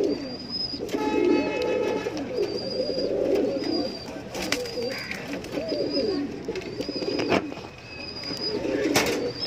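Pigeons coo in repeated soft, throaty phrases close by, overlapping one another, with occasional sharp chirps and faint flutters mixed in and no voices.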